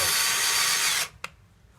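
A power drill fitted with a soft brush attachment whirs steadily at close range for about a second, then cuts off, followed by a brief mechanical click.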